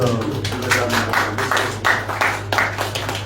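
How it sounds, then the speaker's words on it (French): Applause at a Russia Day celebration event, a steady patter of clapping hands over a low constant hum, with rhythmic swells across a few seconds and no talk. "que je vous demande d'applaudir une fois de plus"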